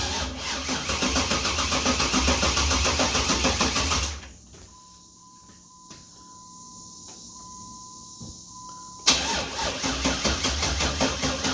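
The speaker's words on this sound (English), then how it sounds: "We're going to see if this new motor will jump in here and fire up if the battery's got enough juice." An engine swapped into a car cranks and tries to start on a weak battery, loud rumbling bursts before and after a quiet stretch with a faint steady tone in between.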